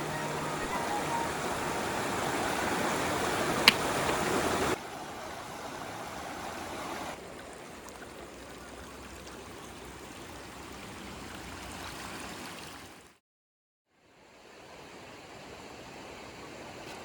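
Broadband rushing water from a river runs steadily throughout, loud at first and then softer after a few seconds, with a brief silent gap near the end before the flow resumes.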